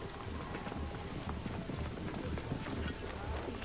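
Horse hooves clip-clopping at a gallop in Assassin's Creed Origins, a steady rapid rhythm running throughout with game ambience, and a voice talking over it.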